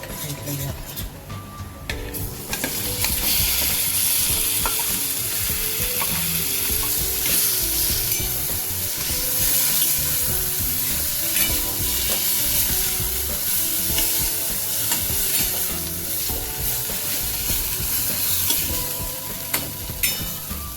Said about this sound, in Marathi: तेल सुटेपर्यंत आपल्याला त्याला परतून घ्यायचं आहे